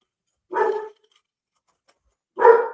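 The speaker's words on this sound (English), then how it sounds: "Now my dogs are barking because I made that noise." Dogs bark in two separate bursts about two seconds apart, each a quick cluster of barks close by, with silence between and no talking.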